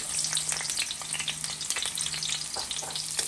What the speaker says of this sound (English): So now that your oil is hot, you're going to add in your red onion.